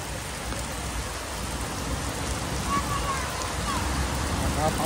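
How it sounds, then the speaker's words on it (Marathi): Heavy rain falling during a monsoon ride near Karjat, Maharashtra, a steady, dense hiss close by that continues throughout, with faint background sounds and no clear talk. "पाऊस जोरात येतोय."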